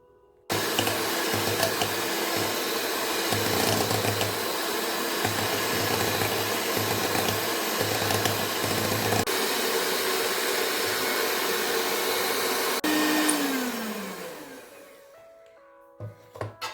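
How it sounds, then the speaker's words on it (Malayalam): An electric hand mixer whips cream for homemade coffee ice cream, a steady loud motor whir that runs for about thirteen seconds, then slows and winds down to a stop. "വിപ്പിംഗ് ക്രീം നന്നായിട്ട് ബീറ്റ് ചെയ്തിട്ടുണ്ട്."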